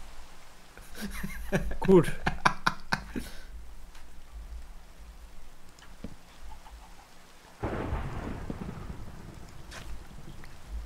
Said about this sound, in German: Hier überall schneit es und dieses eine Haus, da regnet es drauf.